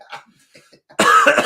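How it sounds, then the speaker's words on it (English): A person clears their throat and then breaks into a loud, harsh coughing fit, with several rough bursts following quickly after a few quieter sounds. "coughed up his lungs"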